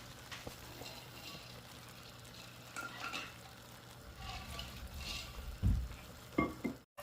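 Mole sauce cooking in a pan while being stirred, a faint sizzle and bubble under soft scraping and clinks of the utensil against the pan, growing a little louder toward the end.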